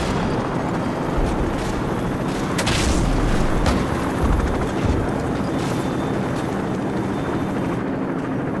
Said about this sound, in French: À l'équipage, nos hélicoptères entrent dans la zone.